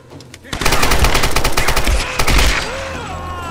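Rapid gunfire from a weak-hitting gun in the video game Tomb Raider, a loud burst of repeated shots lasting a few seconds that tapers off with ringing game effects at the end.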